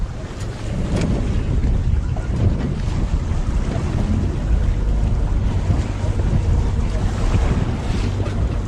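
Strong wind roars across open sea near a boat, with cold waves surging; the gusty, broadband rush is loud and steady throughout, with no voices.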